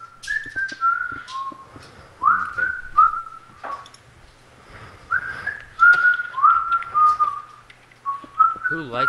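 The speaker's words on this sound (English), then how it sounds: "He needs to stop whistling!" A person whistles a wavering, melodic tune in short phrases with pauses between them, heard fairly close and clear with only faint background noise.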